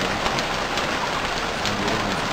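Rain falls in the Stranded Deep survival game, a steady dense hiss of drops on surfaces that stays even and loud throughout with no break.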